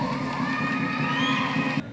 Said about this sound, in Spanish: démonos un fuerte aplauso, por favor,